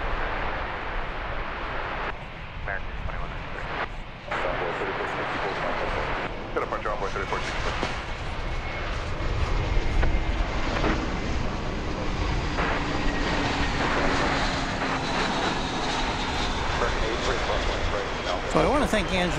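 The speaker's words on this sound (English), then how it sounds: "coming in from Nashville is American 2583 in Airbus A321" An American Airlines Airbus A321 arriving at DFW Airport from Nashville roars steadily and loud for the whole stretch, a broad continuous engine rush that swells slightly midway as it passes.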